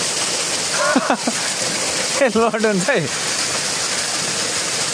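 Water rushes down a steep, overgrown hillside with a constant, loud hiss, while people speak briefly over the flow.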